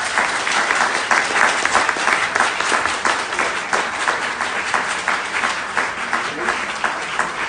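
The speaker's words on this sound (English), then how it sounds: "We have a round of applause for Elaine." Steady, dense round of applause from a seated audience at a live trance medium event in Cwmbran, continuing evenly throughout without talk over it.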